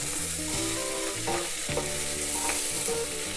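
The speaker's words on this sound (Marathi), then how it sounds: "आता जे काही आपले चॉप्ड मी ऑनियन्स घेतले होते ते सगळेचे सगळे मी यातच परतून घेणार आहे" Chopped onions sautéing in butter in a pan for tomato soup, a steady close hiss of frying with a few faint scrapes of stirring, no voices.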